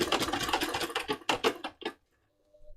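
A sewing machine stitches fabric in quick mechanical bursts, running steadily and then in a few short pulses before stopping with the needle down, followed by near silence and a faint motor hum.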